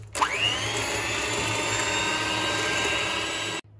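Electric mixer beating butter cake batter, a steady high whir that starts abruptly and runs evenly for several seconds before cutting off.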